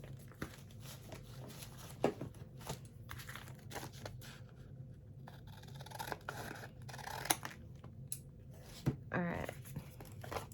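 Paper being cut with scissors for a handmade junk journal, close up, with repeated snips, rustles and crinkles over about ten seconds and no talk.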